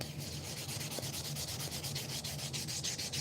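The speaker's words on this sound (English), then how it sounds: "Let me just run the sandpaper. This is a 120. I'm gonna just run it across there." Strokes of 120-grit sandpaper scrub across a knife, a quiet, close, rhythmic rasp of quick back-and-forth passes at an even pace.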